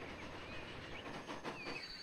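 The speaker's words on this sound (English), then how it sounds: "We've flung a bunch of trains down the line" Trains run along a railway line in the game Transport Fever 2, giving a steady, soft rolling rumble with faint wheel clatter and a brief squeal near the end.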